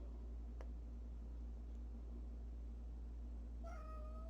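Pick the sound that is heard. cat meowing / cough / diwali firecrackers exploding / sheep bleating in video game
cat meowing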